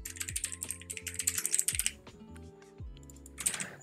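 Someone types a GitHub username on a computer keyboard in quick, close clicking bursts. A short pause splits the keystrokes before a final flurry.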